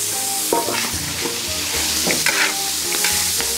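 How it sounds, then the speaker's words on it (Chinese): Pork intestines stir-fried in a hot wok with soy sauce, ginger and chili sauce hiss and crackle loudly, punctuated by repeated clanks and scrapes of the spatula against the metal. "炒香再把肥肠给去倒进去"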